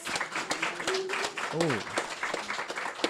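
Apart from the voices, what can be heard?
audience applause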